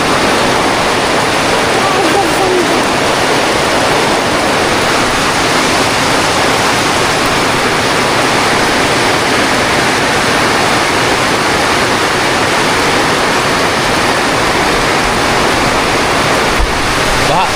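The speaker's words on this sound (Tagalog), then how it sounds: "Lakas, ng ulan!" A heavy tropical downpour floods the ground, a loud, unbroken roaring hiss of rain that fills the whole stretch from start to finish.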